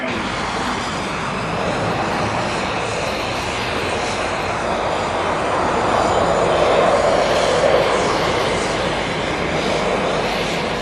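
A commercial airliner's engines during pushback on an icy ramp, a continuous loud roar and whine that holds steady and swells slightly toward the middle, with no voices over it.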